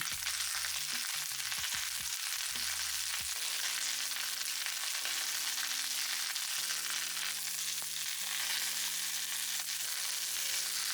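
Cauliflower steaks fry in a pan with lemon slices and thyme, giving a steady, even sizzle throughout. Background music with sustained tones plays underneath, and no one talks.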